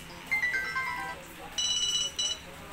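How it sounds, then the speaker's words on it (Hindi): Nokia 225 4G mobile phone ringtone playing a short, bright electronic melody of high beeping notes in two phrases, moderately loud and close, with a faint background hiss. "ये इसकी रिंग टोन है"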